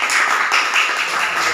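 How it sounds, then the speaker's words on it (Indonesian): Classroom students clap together for group 2. The applause is brisk and fairly loud, lasts about a second and a half, and has no talk over it. "Tepuk tangan untuk kelompok 2"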